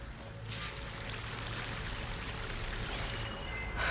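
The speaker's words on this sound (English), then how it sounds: "That waterfall must be coming from somewhere." Steady rushing of a waterfall in the video game Horizon Forbidden West, a continuous pouring wash that holds at an even level throughout with no speech.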